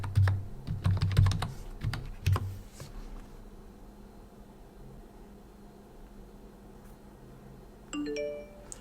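A password is tapped out on a computer keyboard in a quick flurry of close, soft keystrokes, followed by quiet room tone and a short chime.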